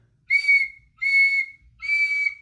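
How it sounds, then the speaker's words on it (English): A silver whistle blown three times in a row, each a clear, steady, high-pitched blast of about half a second with short gaps between, close and loud. "She got into a terrible rage and blew 3 times upon her silver whistle."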